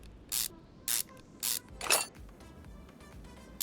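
Car suspension parts, a lower suspension arm and its rubber bushing, being removed in the Car Mechanic Simulator 2021 video game: four short, crisp mechanical ratcheting bursts, evenly spaced, the last one longer, over a quiet background.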